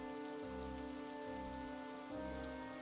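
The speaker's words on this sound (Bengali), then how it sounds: "সকাল থেকে বৃষ্টি একবারও থামলো না।" Steady cartoon-style rain sound effect, a continuous rain hiss that lasts the whole stretch under a sustained musical backing, with no voices.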